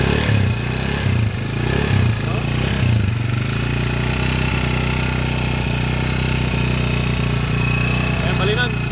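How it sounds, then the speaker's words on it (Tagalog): A noisy Kawasaki HD3 motorcycle engine idles loudly and steadily, with an uneven chugging rattle at first that settles into a constant drone. "ito na yung kon kanina, maingay yung makina. Pakinggan nyo."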